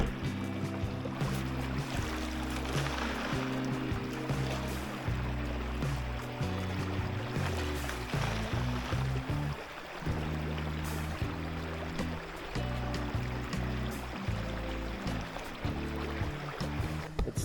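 River water rushes steadily through an upgraded, unconventional river sluice set up for gold prospecting, a constant broadband wash with a low droning hum running underneath throughout.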